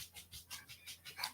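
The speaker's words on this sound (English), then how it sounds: "My dogs are acting up." Dogs pant in quick, rhythmic breaths mixed with a faint whimper, close and fairly quiet in a short burst with no talking.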